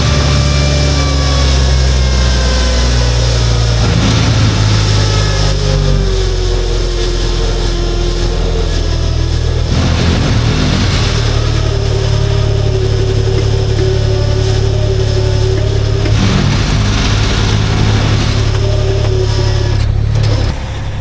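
A dry drum on a heat delivery truck grinds loudly and continuously for about twenty seconds. A heavy engine drones underneath, and the grinding swells in repeating cycles.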